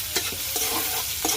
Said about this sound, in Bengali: এখন আমি পেঁয়াজ আর কাঁচামরিচ দিয়ে দিচ্ছি। নাড়াচাড়া দিয়ে দিচ্ছি।